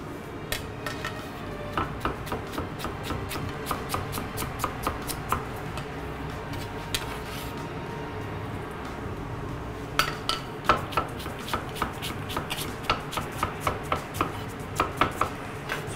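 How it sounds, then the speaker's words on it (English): A sharp knife slicing a quarter cabbage on a board, with a long run of crisp, rapid chopping taps close by. They come in steady bursts and grow sharper and louder from about the ten-second mark. "Just slice it like that"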